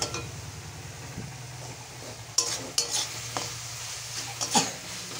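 Red amaranth greens sautéing in a pan are stirred with a utensil, making several sharp scrapes and light clinks over a faint, steady sizzle.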